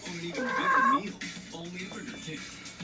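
A cat meows loudly near the start in a drawn-out, wavering call, followed by softer mewing sounds, with people talking nearby.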